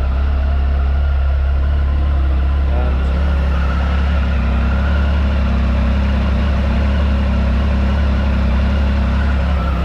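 Triumph Tiger Sport 1050 motorcycle engine held at a steady idle during throttle body balancing outdoors, a constant low, unbroken drone that stays close and loud for the whole stretch.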